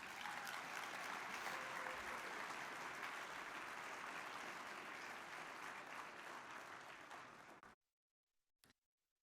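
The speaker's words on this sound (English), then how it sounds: "Let's give them a big round of applause." Sustained applause from a large audience at an awards event honoring mayors, steady and dense for several seconds before cutting off, with a brief sound after.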